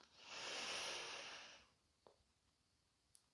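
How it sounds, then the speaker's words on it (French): A deep breath drawn in during a relaxation routine for back health: a broad, soft airy rush that swells and fades over about a second and a half, followed by quiet with a couple of faint clicks. "On va prendre encore une profonde inspiration"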